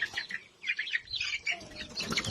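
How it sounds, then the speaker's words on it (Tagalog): Native chicken chicks, grown fairly large and kept in a cage, cheep in a rapid overlapping cluster of high tweets, fairly close and continuous, with soft rustling beneath. "May mga sisiw din tayong nakakulong dito guys."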